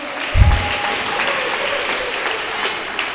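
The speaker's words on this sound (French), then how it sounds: "Est-ce qu'on peut applaudir notre Dieu?" Church congregation applauding during a French-language worship service, a sustained wash of clapping that swells after a brief low thump and continues steadily to the end.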